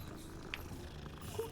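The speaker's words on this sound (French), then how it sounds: "Un chat orange! C'est les meilleurs chats." An orange cat in a video game purrs softly and continuously, a low, faint rumble with a couple of brief higher chirps over it.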